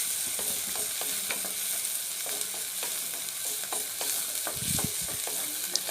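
Onions sautéing in a pan for paneer gravy, a continuous close sizzle broken by regular scrapes and taps of a spatula, with a brief low thud near the end.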